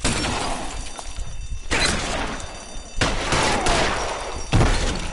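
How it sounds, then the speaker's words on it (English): Gunfire in a video game, including pistol shots, rings out as loud bursts and crackling volleys in several dense clusters, with shattering impacts and no talk. "Stop shooting at me."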